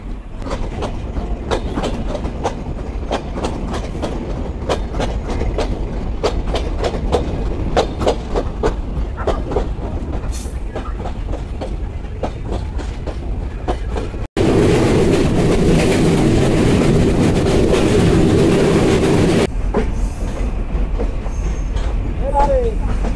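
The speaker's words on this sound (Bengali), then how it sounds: "রাত 7টা 15 মিনিটে আন্তনগর কপোতাক্ষ এক্সপ্রেস ছেড়ে গেল যশোর রেলওয়ে জংশন স্টেশন থেকে" The Kapotaksha intercity express runs at night between Jashore Junction and Noapara, rhythmic wheel clicks ticking over steady rumble, then a sudden louder, denser roar for several seconds before easing back.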